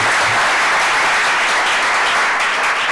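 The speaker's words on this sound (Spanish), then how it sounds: "¿no les importa aplaudirme?" A conference audience applauds loudly and densely, a sustained wash of clapping from many hands that fills the whole stretch without letting up.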